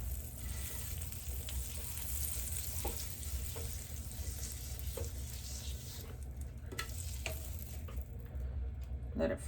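Butter sizzles steadily in a hot pan while cooking shrimp linguine, a continuous bright hiss with faint crackles and a few light clicks, with no talking.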